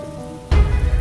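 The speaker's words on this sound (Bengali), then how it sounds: "আকাশ ভেঙে বৃষ্টি নামে।" Heavy rain suddenly bursts in as a dense, loud roar of pouring water halfway through, following a quieter tonal background, used as a sound effect in a ghost story.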